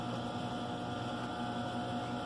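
A sewing machine stitches a seam on a patchwork tulip-block rug, humming steadily and evenly without pause, close by and with no talking.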